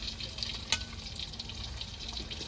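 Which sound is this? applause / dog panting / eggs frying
eggs frying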